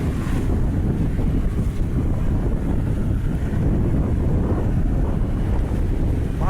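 Strong wind roars at sea during a sailing race, a loud continuous buffeting rush with heavy low-end wind noise on the microphone and no voices.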